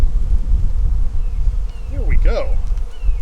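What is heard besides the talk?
honey bees buzzing around beekeeper at hive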